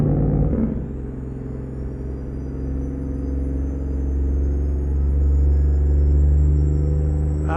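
Heard from inside the cab, a Kenworth C500 heavy-haul truck's diesel drones in a deep, continuous rumble that swells gradually louder toward the end, with a short hiss and clunk at the start and no talking.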